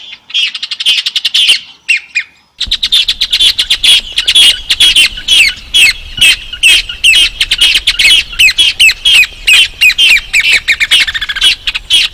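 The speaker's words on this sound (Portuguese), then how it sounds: "Aí o pomar das aves, né, de manhã cedinho." Poultry in an early-morning farmyard orchard on a farm in Feira de Santana squawk loudly and continuously in dense, overlapping bursts close by, with brief sharper calls at the start and no talking.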